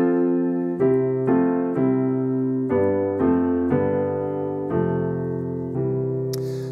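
A solo piano plays the short outro riff that closes each chorus of a song, a run of sustained chords struck one after another at a steady pace, close and clear, ending on a ringing chord.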